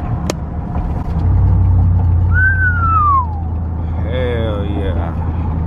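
A lifted pickup truck, a giveaway build, rumbles steadily on a test drive, its low engine drone continuous and close with brief higher whines over it while people talk inside the cab.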